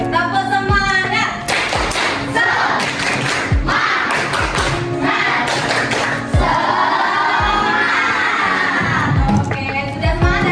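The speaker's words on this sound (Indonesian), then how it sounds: "Tepuk semangat." A classroom of schoolchildren performs a rhythmic spirit clap, bursts of clapping and thumping in a patterned beat mixed with children's shouting, close and lively throughout.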